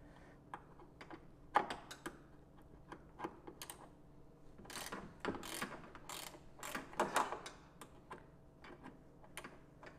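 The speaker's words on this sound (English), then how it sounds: "Get a little ratcheting 10 millimeter wrench like this." A ratcheting 10 mm wrench loosens a nut on a Tesla Model S door handle, giving quiet, irregular clicks and short ratchet runs, with denser clusters in the middle.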